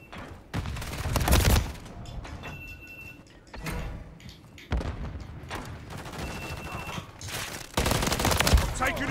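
Bursts of automatic gunfire from a Modern Warfare 3 multiplayer match, dense loud volleys broken by short pauses, with voices talking faintly underneath.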